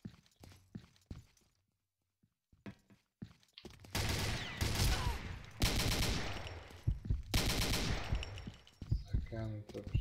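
An RPK-74 machine gun in the video game Combat Arms fires loud sustained bursts after a few scattered quieter sounds and a brief silence, with a voice speaking around the shots.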